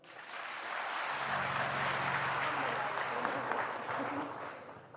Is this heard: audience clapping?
yes